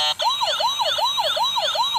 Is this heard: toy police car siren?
yes